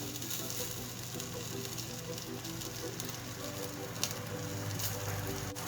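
Capsicum pan-frying in oil on a tawa, a steady dense sizzle that holds even and continuous throughout, with a single faint tap near the end and no voices.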